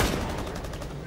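Rapid bursts of suppressing gunfire in the video game Rainbow Six Siege crackle in a quick, even rhythm, loud and close throughout.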